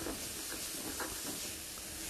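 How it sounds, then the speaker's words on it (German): Shallots fry in a hot pot, giving a steady, soft hiss and sizzle that carries on evenly without pauses. "Kurz und knackig das Gemüse anbraten."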